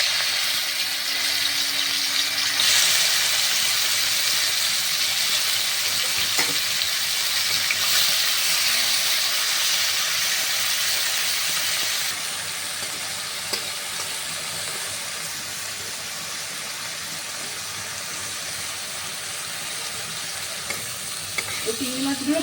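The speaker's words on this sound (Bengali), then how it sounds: "তেল গরম হয়ে গেছে, এবার চিংড়ি মাছগুলো ভেজে নেব।" Prawns frying in hot oil for a Bengali prawn biryani, a steady dense sizzle and hiss that runs throughout, slightly quieter in the second half, with no voices.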